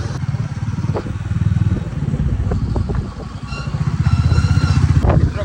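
A Royal Enfield Bullet motorcycle thumps along a mountain road near Mount Abu, its engine loud and close with a steady pulsing beat, plus wind buffeting and light clatter.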